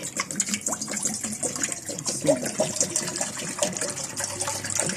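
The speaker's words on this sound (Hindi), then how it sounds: "इसमें पानी डालेंगे, तकरीबन 3 मग पानी के।" Roughly three mugs of water are poured into a cooking pot in the kitchen, a continuous gushing, splashing pour that stays moderately quiet and steady throughout.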